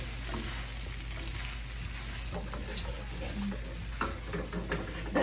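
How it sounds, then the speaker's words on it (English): Caramelized salmon sizzles steadily in a hot pan while it is stirred, a constant frying hiss with scattered scraping clicks from the utensil, close and moderately loud throughout. "Let's give this a good stir."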